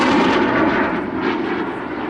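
SAAB J-29 Tunnan jet aircraft at the 2019 Southport airshow, a loud continuous engine roar with broad rumbling noise, steady throughout and heard alone without talk.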